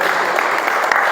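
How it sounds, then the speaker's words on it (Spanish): A brief burst of dense applause from a class audience, many hands clapping at a steady, fairly loud level throughout. "Merece un aplauso"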